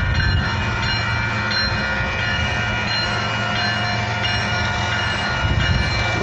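A KCS freight train passing close by, a loud steady rumble of rolling wagons with a sustained horn tone running through the whole stretch.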